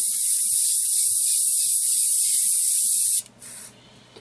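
An inexpensive airbrush sprays thinned Vallejo Model Color paint in one loud, steady, close hiss that stops abruptly and then gives a short, fainter puff.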